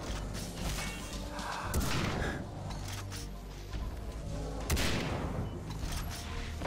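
Gunfire in the video game Far Cry 3 Blood Dragon, a steady dense stream of shots with a couple of louder bursts near the middle and later, heard fairly close with no talking.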